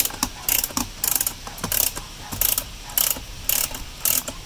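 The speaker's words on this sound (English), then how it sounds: "So you're going to be pushing with no noise, and then it'll click." A ratchet wrench turns a nut on an RV, giving bursts of sharp mechanical clicking in a steady repeating rhythm of push and click, close and fairly loud, with no talking.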